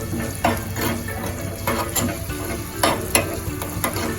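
A spoon stirs turmeric and spices through hot oil in a pan for a red chili pickle, steady sizzling broken by several scraping strokes against the pan, close and clear with no talking.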